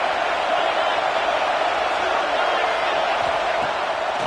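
A stadium crowd in a college football video game, Ohio State against Indiana, roars in a dense, steady wash of cheering that holds at full volume throughout, with a commentator's voice underneath.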